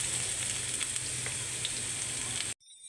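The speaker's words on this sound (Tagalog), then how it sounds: "Lagay na natin yung sibuyas. Ayan, gisa natin." Onion and garlic sauté in hot oil in a pan for a Filipino ginisang ampalaya dish, a steady close crackling sizzle with small pops that cuts off abruptly near the end.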